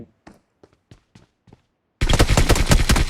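Sparse single gunshots pop at intervals, then a loud, continuous burst of rapid automatic fire erupts and keeps going.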